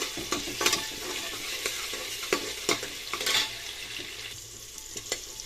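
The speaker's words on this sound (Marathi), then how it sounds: "टोमॅटो चांगला मऊ होईपर्यंत आपल्याला भाजून घ्यायचा आहे तेलामध्ये" Tomato frying in oil in a pan for a green chili chicken curry, sizzling up close while a utensil stirs and scrapes in irregular strokes, with no voices.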